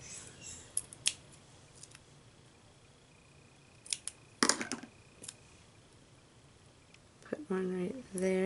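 Scissors trimming material for a paper craft project, a few scattered crisp snips, close and fairly quiet in a still room, with a voice speaking near the end.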